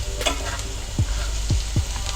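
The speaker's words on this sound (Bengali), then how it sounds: "পেঁয়াজগুলো ভালো মতো ভেজে নেবেন" Onions sizzle steadily in a hot pan for a homemade chicken sandwich, a close, soft crackle with a few quick stirring scrapes.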